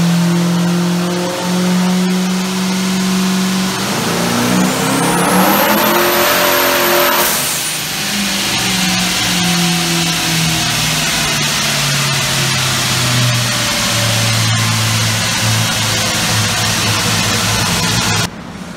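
A 1992 Fox Body Mustang engine revs hard on a chassis dyno, its loud steady drone climbing in pitch, easing, then holding high again with tire squeal from the rollers throughout.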